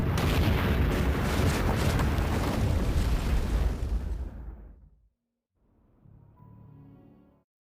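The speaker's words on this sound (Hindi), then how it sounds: "हो गई फैक्ट्री ब्लास्ट।" A factory blowing up in the video game Werewolf: The Apocalypse – Earthblood: a loud, sustained roaring explosion that rumbles on for several seconds, dies away into near silence, then returns as a softer low rumble.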